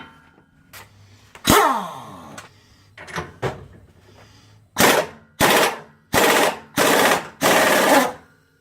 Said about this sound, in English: Rattle gun.